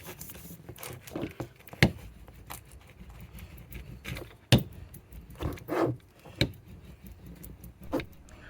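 A brayer roller pressed over vinyl on glass for a dollar-store Halloween decoration, giving soft rolling rubs and scrapes with several sharper clicks and knocks, close up and fairly quiet, with no talking.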